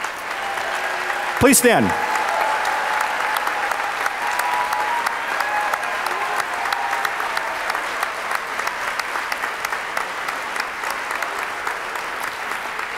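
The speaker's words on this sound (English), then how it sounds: "would you all please stand so we can give you a round of applause as well?" Parents and grandparents stand at a school recognition night while the audience gives them a sustained round of applause, steady clapping filling the hall for several seconds, with an announcer's voice briefly heard near the start.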